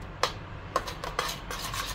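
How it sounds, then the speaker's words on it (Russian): A spoon stirs pumpkin soup in a cooking pot, knocking against the sides in four or five evenly spaced clinks over a soft background hum. "Перемешали."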